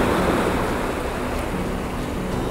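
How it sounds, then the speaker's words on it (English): Ocean surf rolls in and draws back along the shore at sunrise, a steady, dense wash of water that fills the whole stretch with a wind-touched roar and no pause. "when I'm photographing waves, I'm looking for the wave coming in, and then as it starts to recede"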